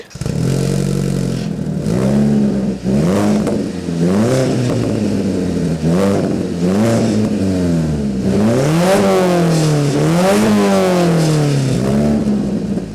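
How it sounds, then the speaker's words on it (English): A crashed-and-repaired Alfa Romeo 159 with new exhaust tips revs repeatedly, close and loud, its engine note rising and falling in a string of sweeping blips over about thirteen seconds with no talking. "So now that the tips are on, we're gonna try rev it and see how it sounds now."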